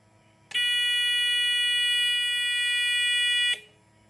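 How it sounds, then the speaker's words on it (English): A relay-triggered 12 V automotive buzzer sounds steadily and piercingly for about three seconds at constant loudness, then cuts off abruptly, close by with no talking. "then the buzzer will have the sound"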